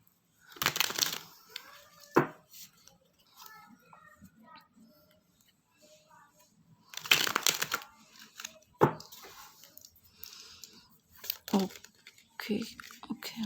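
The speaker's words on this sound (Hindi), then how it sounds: "तो इसको पहले अच्छे तरीके से शफल कर लेते हैं" A tarot card deck is being shuffled by hand in a few separate bursts of close, crisp riffling and crinkling, with quiet gaps and small taps between them and no voice over the card sounds.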